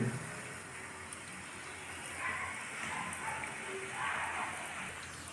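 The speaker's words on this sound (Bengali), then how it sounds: "মাছের ডিমের বড়া ভাজা হচ্ছে" Large fish-roe fritters fry in hot oil over a gas flame with a soft, continuous rain-like sizzle. The sound is faint but steady and rises slightly midway, with no voices.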